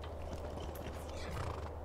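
A horse in Skyrim whinnies loudly while its hooves clip-clop over a constant, dense backdrop of game ambience, close and uninterrupted for a couple of seconds.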